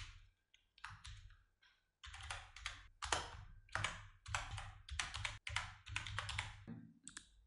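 Typing on a computer keyboard while entering text into a video editing program, heard as close, rapid clusters of key clicks in bursts with short pauses, no voices.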